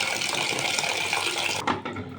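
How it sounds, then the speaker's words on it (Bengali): Fresh new potatoes are rinsed under running tap water to wash off soil, a steady close splashing stream that cuts off abruptly near the end, followed by a few brief knocks and drips. "এই তো আলুগুলো আমি ভালো করে ফ্রেশ করে ধুয়ে নিচ্ছি"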